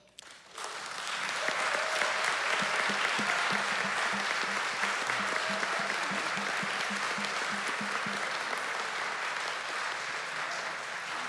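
Sustained applause from an audience at a nightlife listening tour in Brooklyn, a dense, steady wash of many hands clapping that swells in quickly and holds loud for the full stretch, tapering only slightly near the end.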